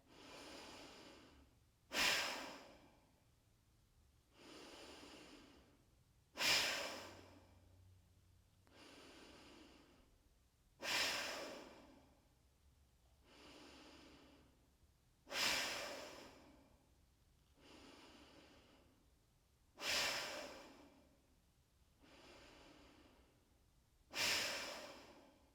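Slow, deep yoga breaths with the belly drawn in on each exhale, about six full cycles of long airy exhales alternating with softer inhales, close and steady, with no talking.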